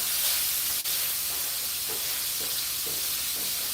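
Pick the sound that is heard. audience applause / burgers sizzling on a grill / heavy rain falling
burgers sizzling on a grill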